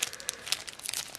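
Short bursts of close plastic crinkling and rustling, irregular and fairly quiet, with no voices.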